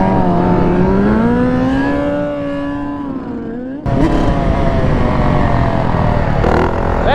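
Small sport motorbike engine revving outdoors at a stunt lot, a loud, close whine rising and falling in pitch, briefly easing off before surging again.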